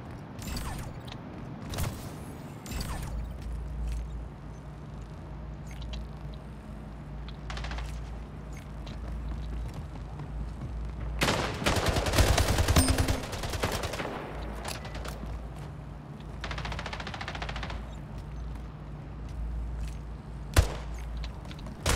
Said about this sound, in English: These people like to shoot a lot after death.